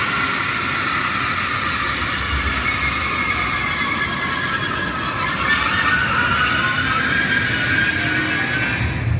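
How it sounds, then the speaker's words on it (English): An ICE high-speed train rolls into a station platform, a steady loud rumble of wheels and carriages with a rising metallic whine and hiss, continuous throughout with no talk. "And here comes the train, the ice train."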